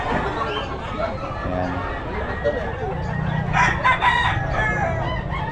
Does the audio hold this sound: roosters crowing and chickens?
yes